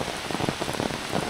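Steady rain falls into roofless palace ruins, a dense patter of drops striking stone surfaces, close and continuous with no voices.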